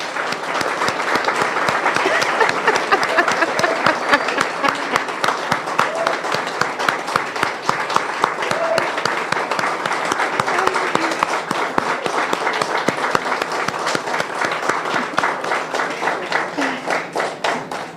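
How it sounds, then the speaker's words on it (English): A large audience at a hospital accreditation ceremony claps steadily and loudly for the whole stretch, a dense sustained round of applause with no pauses. "give these amazing ladies the biggest round of applause that you can."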